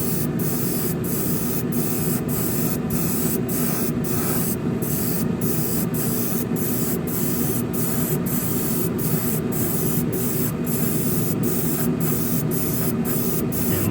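Clear coat being sprayed onto a Revell 1968 Pontiac Firebird model kit, a steady close hiss that runs unbroken for the whole stretch with faint regular ticking on top and no talk.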